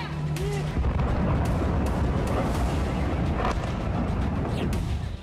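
Explosions in Kyiv during a Russian attack, a dense roar of blasts and rumbling booms that runs continuously at loud level, with sharp cracks scattered throughout.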